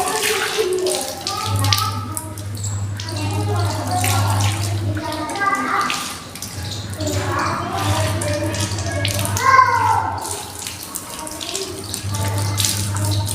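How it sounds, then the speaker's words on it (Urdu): Tap water runs and splashes steadily while hands and arms are washed for ablution, a close continuous gush with someone speaking over it. "اس طرح پانی پہنچایا جائے تاکہ کوئی بھی جگہ سوکھی نہ رہے۔"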